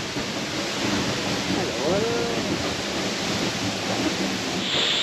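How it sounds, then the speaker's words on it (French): A waterfall in the Sumatran forest pours in a loud, steady roar from close by, with someone speaking briefly over the rushing water. "je suis trempé, je suis sous la cascade. La cascade est juste là"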